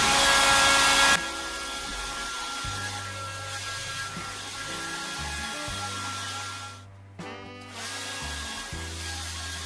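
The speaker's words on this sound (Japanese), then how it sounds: "ドライヤーで10分ぐらい乾かしましたがね" A hair dryer blows steadily on oven-bake clay pottery, a constant whooshing hum that cuts off briefly near the end and then starts again. No one talks.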